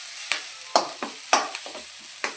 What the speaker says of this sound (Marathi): आता हे ना मिक्स करून घेणार आहोत चांगलं